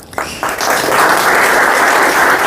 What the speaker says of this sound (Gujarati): તાળીઓની ગુંજ તમે સાંભળી શકો છો